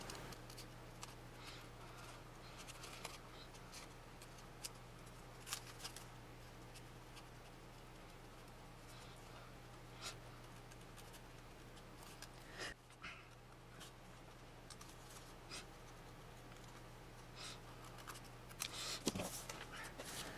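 Faint intermittent snips of scissors cutting out a coloured paper card piece, sped up, scattered soft clicks over a low steady hum, no talking.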